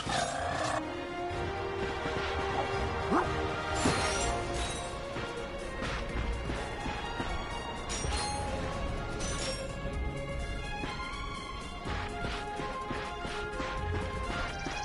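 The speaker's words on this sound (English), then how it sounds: "Look at him smashing crates." Crates are smashed in the Ratchet & Clank video game, with repeated loud cracks and thwacks over a continuous dense game soundtrack and effects.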